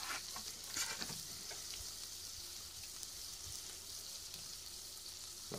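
Potatoes and garlic sizzle in a frying pan, a steady dense hiss and crackle throughout with a few sharper pops near the start, close and continuous.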